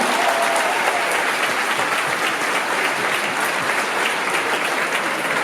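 A conference audience at a manga convention applauds in a dense, steady wash of clapping that holds at an even level throughout, with no talk over it.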